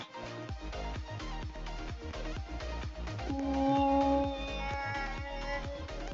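Cats meow in the video game Roblox Brookhaven, several short mews repeating over a busy, steady game soundtrack, with one drawn-out tonal cry in the middle, fairly faint overall.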